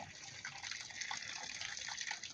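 Water gushes steadily onto mud for a mud brick wall under construction, a continuous soft splashing flow at low level with no voices.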